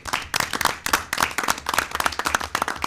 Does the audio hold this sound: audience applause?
yes